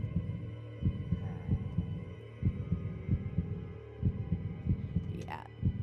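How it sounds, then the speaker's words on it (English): In Minecraft's Decked Out game, a heartbeat thumps in a steady, quick rhythm of paired low beats over a constant hum, close and prominent throughout. "that heartbeat is getting high"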